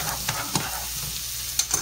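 Shallots and garlic sauté in a pan on a kitchen stove, giving a soft, steady sizzle with a few brief stirring scrapes and clinks.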